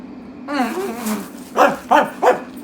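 Dogs bark three times in quick succession, loud and close, after a brief voiced sound. No other sounds accompany them.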